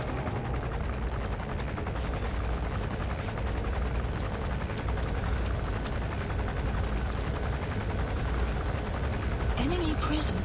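An enemy gunship helicopter in the video game Metal Gear Solid 5 drones steadily throughout, its rotor and engine noise a loud, continuous rumble that never lets up, with faint clatter of combat mixed in beneath.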